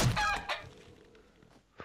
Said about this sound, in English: Killed the chicken.